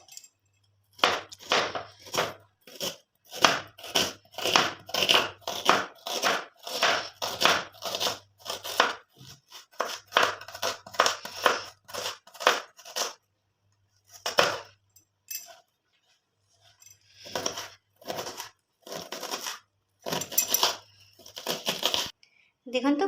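Onions being chopped for Mughlai paratha, a knife striking a board in quick, steady runs of sharp taps, with brief pauses and a low hum underneath.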